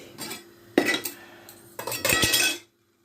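A spoon scrapes and clinks against a pot while kidney beans are turned over to roast, in two short bursts of stirring with a pause between, close and fairly loud, with no talking.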